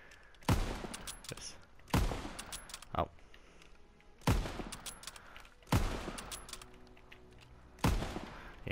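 Single gunshots from the Faithful gun in a WW2 shooter ring out loud and sharp about every one and a half seconds. Each shot decays with a short ringing tail, and someone speaks briefly at the start.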